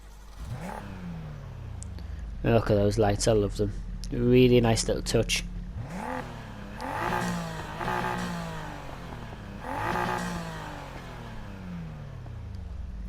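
A Nissan Skyline's engine revs repeatedly in the video game Need for Speed Heat, rising and falling in pitch through a big, wide exhaust, while someone talks over the later revs.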